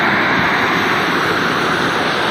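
Floodwater from heavy rain rushes in a loud, steady roar of broadband noise with no break, close and unvarying, like a torrent pouring through a creek.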